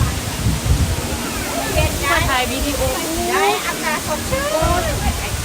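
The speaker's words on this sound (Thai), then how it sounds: "น้ำตก" A waterfall at a busy tourist spot gives a steady, loud rushing roar with spray, while people talk over it throughout.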